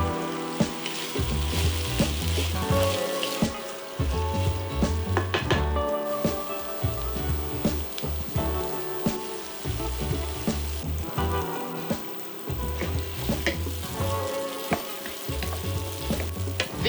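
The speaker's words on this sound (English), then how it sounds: "Add the vegetables and start caramelizing them." Onions, carrots and peppers sizzle in vegetable oil in a hot pan, a steady, close frying hiss broken by repeated stirring scrapes and clatters.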